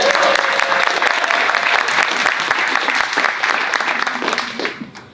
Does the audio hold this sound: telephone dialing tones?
no